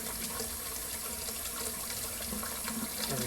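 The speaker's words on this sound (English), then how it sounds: "Now I have that water going" Steady rushing water streams from a kitchen tap in a continuous, even hiss, close and fairly loud, with no pauses for the whole few seconds.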